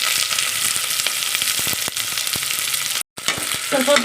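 Onion and garlic frying in hot oil with mustard seeds until brown give a loud, steady, close sizzle with scattered stirring clicks and one brief break in the sound.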